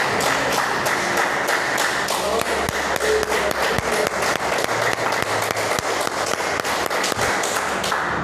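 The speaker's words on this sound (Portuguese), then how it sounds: "Vamos aplaudir o Senhor." A church congregation applauding during a service, loud, sustained clapping from many people with a rapid, rhythmic patter of sharp claps running throughout.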